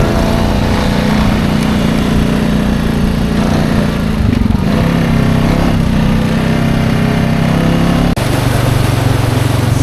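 A Honda Rubicon ATV with a DCT automatic transmission rides a lap on 30-inch Aztex tires around an off-road park, its engine droning steadily and loud throughout, shifting pitch slightly mid-ride and again near the end.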